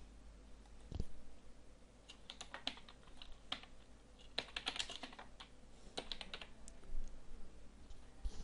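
Typing on a computer keyboard while entering room labels in Revit 2012 architectural software: quiet, irregular bursts of key clicks with a sharper tap near the start, close and alone with no talk.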